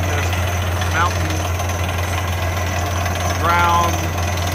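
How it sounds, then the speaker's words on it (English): A 6-inch air hammer drills with a 9-inch bit at 7,900 feet elevation, giving a loud continuous pounding drone with a steady low hum throughout and brief rising tonal squeals over it. "with an air hammer, 6-inch air hammer, 9-inch bit, and just doing the job."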